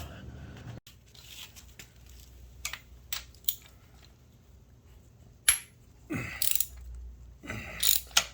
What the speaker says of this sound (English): I had to take that nut off first